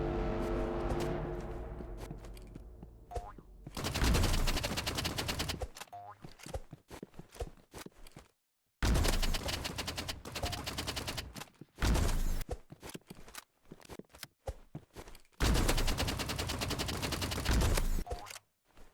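Sniper rifle fire in the Roblox game Rivals, with loud bursts of rapid gunshots in several separate volleys and short quiet gaps between them, up close and without talk.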